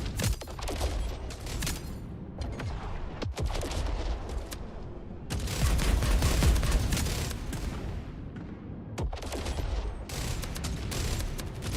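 Ship weapons in a space video game firing on bots: rapid volleys of loud gunfire in bursts, with sharp individual cracks between stretches of sustained shooting and mechanical game noise.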